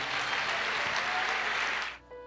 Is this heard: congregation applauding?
yes